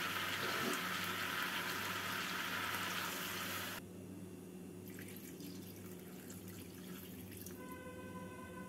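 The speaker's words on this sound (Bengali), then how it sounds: "এবার এর মধ্যে দিয়ে দেব পরিমাণ মতো জল" Water poured into a pan of mixed vegetable curry with drumsticks and lentil dumplings, a soft steady splashing hiss for a few seconds that stops abruptly, leaving quiet low hum and faint clinks.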